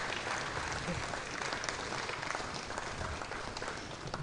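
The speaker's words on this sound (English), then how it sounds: "Oh, please keep the applause coming." Audience at an admin professionals conference applauding as a speaker is welcomed, a dense, even wash of clapping from a large room, sustained and fairly distant without a break.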